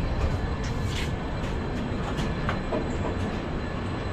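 Steady rumble inside an air-conditioned coach of the moving Jammu Tawi Express, wheels rolling on rails with faint clickety-clack and occasional light rattles, continuous and fairly loud, no talking.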